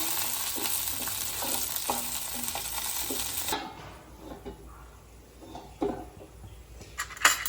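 Bitter gourd frying in a pan, a loud dense sizzle with stirring scrapes for the first few seconds, then dropping to a quieter crackle with occasional utensil clinks against the pan, no talking.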